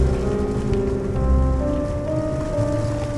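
A steady rainstorm pours down in the video game The Perils of Man, a dense, constant hiss of rain with a low rumble beneath, loud and unbroken, with no voices.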